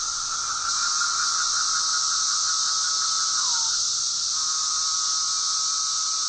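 Male periodical cicada mating call: a loud, continuous shrill buzzing drone with a steady high whine that briefly bends downward midway, heard close and alone.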